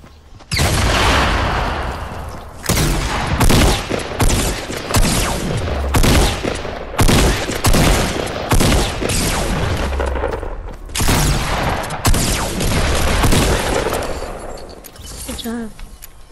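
Heavy shotgun gunfire in the Fortnite Battle Royale video game: loud, dense bursts of shots and booms follow each other almost without pause for the whole stretch, with voices talking intermittently underneath.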